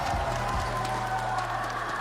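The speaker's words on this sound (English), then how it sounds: "Make some noise for these guys right here, crowd." An esports tournament crowd cheering and applauding, a dense steady roar of clapping and voices sustained throughout at a constant level.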